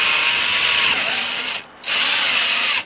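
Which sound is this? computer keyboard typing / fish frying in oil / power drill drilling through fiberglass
power drill drilling through fiberglass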